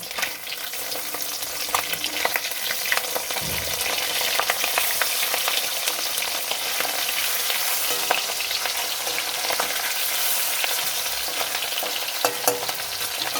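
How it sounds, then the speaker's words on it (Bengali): Fish frying in a wok of hot oil, turned over partway through, give a steady close crackling sizzle with light scraping and clinking from the spatula, with no talking. "এবার আমি মাছগুলো উল্টে দেব।"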